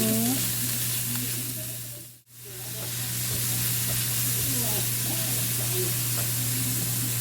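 Pork and Baguio beans sizzle and fry in a pan while being stirred, a steady broadband hiss with a brief dip midway, under a low hum and faint background voices.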